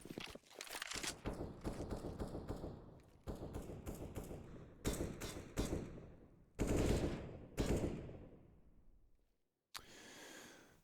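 Rapid bursts of automatic gunfire and single shots from a Counter-Strike match on the Cache map, loud and close, in several clipped volleys separated by short gaps.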